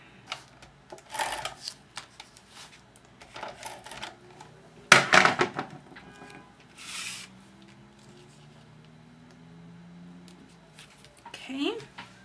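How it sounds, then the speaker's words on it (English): An ATG tape gun runs adhesive onto a card in a home card-making session, giving a couple of short, loud ratcheting bursts among quieter handling sounds, close to the microphone. "So I'm just going to use my ATG gun for that."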